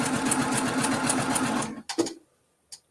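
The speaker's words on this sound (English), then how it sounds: "Sew on the line." A sewing machine runs a fast, steady straight stitch along a marked line joining quilt pieces, then stops abruptly, followed by a few short clicks and handling noises. It sounds close and clear, with no speech.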